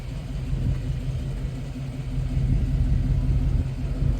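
A 2021 Dodge Charger Scat Pack Widebody drives along with its engine producing a steady, deep rumble from inside the car, growing slightly louder partway through.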